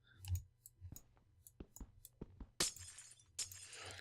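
Glass blocks in the video game Minecraft break one after another in sharp clicking taps, followed by two bright shattering crashes near the end.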